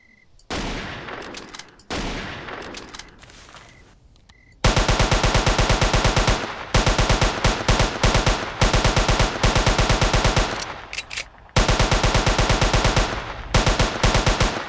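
Sustained automatic gunfire at a dinosaur in Jurassic Park Hunter Legends, with long, loud, rapid bursts of shots broken by short pauses after a few quieter opening shots.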